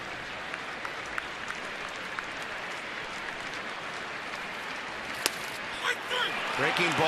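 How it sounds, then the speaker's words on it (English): A baseball crowd at a ballpark claps for a rally, a steady wash of distant applause that runs throughout, with a few sharp knocks and a broadcast voice near the end. "Crowd starting to clap for a rally here."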